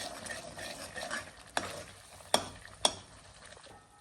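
Pav bhaji masala stirred into vegetables cooking in a pan, with faint scraping and a soft sizzle. A few sharp clinks sound as the spoon knocks the pan.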